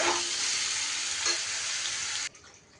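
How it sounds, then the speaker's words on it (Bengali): Young jackfruit pieces frying in hot oil in a kadai, a loud steady close sizzle with faint stirring, dropping off abruptly near the end. "এঁচোড় আমার খুব বেশি সময় ধরে ভাজার দরকার নেই মোটামুটি একটু ভাজা হয়ে গেছে"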